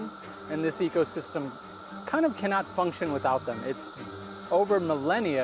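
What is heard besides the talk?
cicadas chirping, emerged in the American South and Midwest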